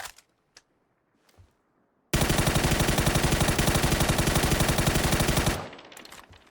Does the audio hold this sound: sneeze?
no